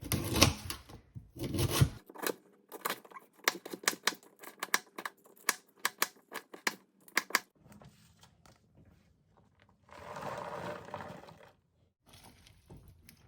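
A knife slicing food thinly on a cutting board, a run of quick crisp taps at an even rhythm, close and clear, followed by a few softer scraping and handling sounds, no talking.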